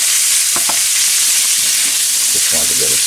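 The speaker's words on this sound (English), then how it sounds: "Then some butter and oil. This is the uncooked shrimp." Uncooked shrimp sizzle in butter and oil in a pan, a loud unbroken frying hiss close up with a few faint clicks and stirring taps.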